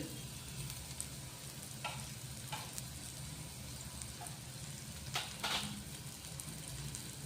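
Spices, turmeric and salt sautéing in a pan for dodka (ridge gourd) bharit, a steady quiet sizzle with a few brief stirring scrapes, heard alone at low level.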